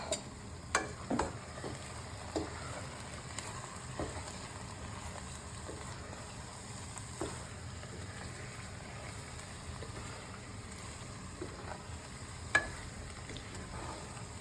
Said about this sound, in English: Just stirring enough to mix the paneer and the spinach.